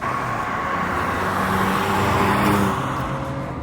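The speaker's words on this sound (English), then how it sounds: "the dual-tip muffler, which gives it quite a loud and raughty exhaust note" A Hyundai Venue N-Line with a dual-tip muffler drones along at speed, its engine and exhaust a steady, loud hum under road and tyre noise, no talking.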